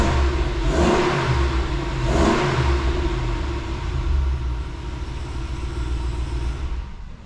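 A car engine with a stock exhaust revving, two quick rising roars early on, then a steady mid-pitched idle rumble nearby that fades slightly at the end, with no talking.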